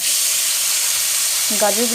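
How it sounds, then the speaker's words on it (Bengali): Carrots fry in ghee in a wok with a loud, continuous hissing sizzle, up close, and a brief tonal sound near the end. "এবার ঘিয়ের মধ্যে দিয়ে দেবো গাজরগুলো"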